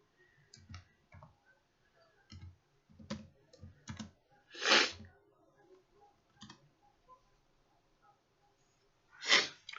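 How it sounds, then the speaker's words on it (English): Scattered clicky keystrokes on a computer keyboard, faint and irregular, come in short clusters separated by pauses, with two louder noisy bursts standing out partway through and at the end. "I'll come up with it as I'm typing it."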